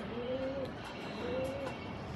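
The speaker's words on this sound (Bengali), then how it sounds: "এই যে কবুতরটা হাতে নিলাম, আমার জেলি একটা মাদি" A female Jelly pigeon held in the hand gives two drawn-out, tonal coos with a pause between them, close and moderately loud over a quiet room background.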